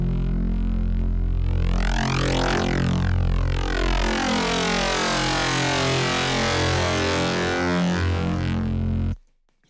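A harsh, monstrous FM synth bass growl made in FL Studio, with its modulation opened up, roars loud and dense with a sweeping, churning texture for several seconds before cutting off.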